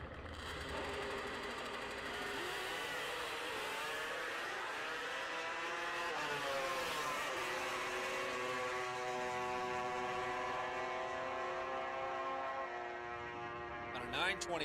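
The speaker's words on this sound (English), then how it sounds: "I'll let you listen to these things. Very interesting sounding bikes." 1972 Kawasaki H2 750 drag racing motorcycles roar past at a drag strip, a loud rising and falling two-stroke engine wail that sustains throughout, with pitch sweeps as the bikes rev and run.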